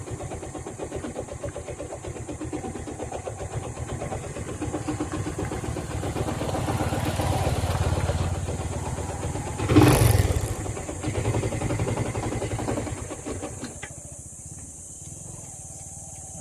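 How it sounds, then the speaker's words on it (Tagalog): A motorcycle engine runs and vibrates on a road at San Andres, Tanay, a steady mid-pitched rumble held throughout with a brief louder burst midway, then easing slightly toward the end. "hindi maganda sa motor kasi nagba-vibrate"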